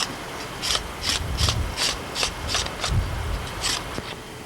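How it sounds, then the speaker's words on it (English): A rough mullein stalk is cleaned by hand, giving about ten quick rhythmic rasping rubs with dull thumps underneath, close up and steady, with no talking. "Now she needs to clean the stalk, which is rather rough"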